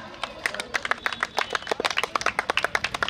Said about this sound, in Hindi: गोटे जोरदार ताली लागू